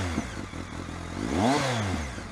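Motorcycle fitted with an aftermarket Remus exhaust, revving close by as the engine note rises and falls, with a small exhaust pop at the top of the rev and no talking.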